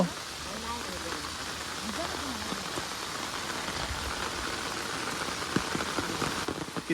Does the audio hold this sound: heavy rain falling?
yes